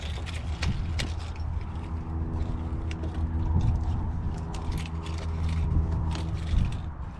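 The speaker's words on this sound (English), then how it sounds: "You're going to turn your key so that you can undo the bolt." A key turns in the lock on an RV ladder to undo the bolt, bringing a run of small metallic clicks and ratcheting creaks up close over a low rumbling background.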